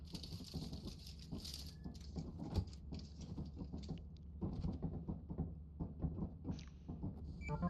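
Constant rain patters in the video game Lethal Company, a faint, steady rattling patter that carries on throughout without any talk.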